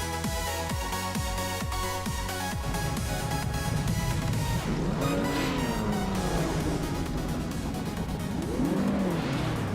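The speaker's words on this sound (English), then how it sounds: "the race just kicked off at Momelo and Amy's up front in the 1951 Ferrari 212 Export" Vintage race cars race with a 1951 Ferrari 212 Export in front: loud engines rev and scream through gear changes, rising and falling pitches as cars pass near, with a constant roaring field of motors.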